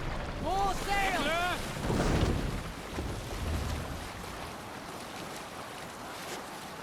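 A Viking longship under sail at sea in Assassin's Creed Valhalla, Wrath of the Druids DLC, with steady wind and wash of waves throughout while a voice calls out briefly near the start.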